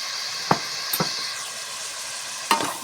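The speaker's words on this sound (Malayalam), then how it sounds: "നന്നായി വഴറ്റി കൊടുക്കുക ഉള്ളിയൊക്കെ വെളിച്ചെണ്ണയിൽ വരുന്ന നല്ല സ്മെല്ല് അങ്ങനെ അടിക്കുന്നുണ്ട്" Onions sautéing in coconut oil for beef varattu, a steady sizzle with a few sharp stirring clacks of a spoon against the pan, close and moderately loud, no voices.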